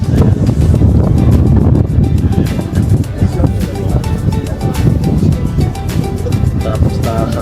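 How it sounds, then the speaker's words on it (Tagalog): Strong, cold wind buffets the microphone outdoors in New York City, a loud, rumbling roar with gusty surges throughout, while a voice talks over it. "Ang lamig kasi mahangin."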